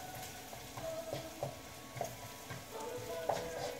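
Bacon frying in a pan, a soft steady sizzle with light ticking pops and faint stirring clicks, quiet and close, no voices.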